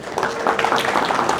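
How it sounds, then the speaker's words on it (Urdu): Brief, fairly close applause from attendees at a fundraising event for Indus Hospital in the Netherlands, with scattered claps mixed with a murmur of voices. "بہت ساری تالیاں ڈاکٹر صاحب کے لیے"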